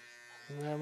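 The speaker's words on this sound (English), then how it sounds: "with your trimmer, never drag down, just make your line" An electric hair trimmer switches on partway through and buzzes steadily and close, with a bright electric hum, while cutting a hairline.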